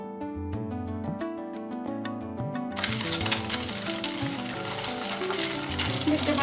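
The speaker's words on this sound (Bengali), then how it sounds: "এখন আমি এগুলোকে ভেজে তারপর বাকিগুলো ভাজবো" Semai vermicelli fritters (semai meetha tukda) frying in a pan, a dense steady sizzle close up, with music playing over it and a burst of louder crackle partway through.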